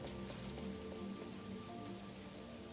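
Steady rain weather effect from the video game Neverness to Everness, a dense continuous patter of drops hissing evenly throughout, with faint musical tones layered underneath and no speech.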